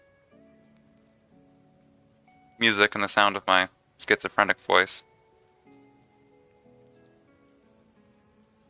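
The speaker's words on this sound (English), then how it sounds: "Got some nice rain and critters in the background going." Soft steady rain ambience with faint creature sounds runs quietly through a cozy indoor setting, layered under background music, with a person talking briefly over it in the middle.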